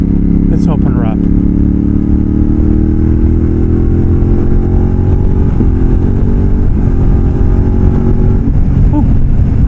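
A Yamaha X-Cape 1200 adventure motorcycle pulls hard in fifth gear from about 65 mph, its engine note rising steadily in pitch and loudness, close up, with wind rush throughout.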